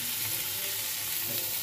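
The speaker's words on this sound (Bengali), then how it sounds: "তেজপাতা সম্বাদ দিয়ে বেগুনটা একটুখানি আগে ভেজে নেবো" Eggplant fries in hot oil with nigella seeds, dried chilli and bay leaf, giving a dense, even, close sizzle that holds steady throughout without a pause.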